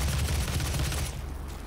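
Gauss Cannon fire in the video game Doom, a loud, dense burst of rapid booming blasts close up that eases slightly near the end.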